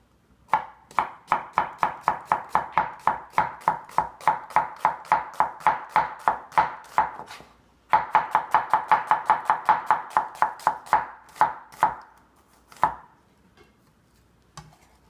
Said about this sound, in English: So slice the onion.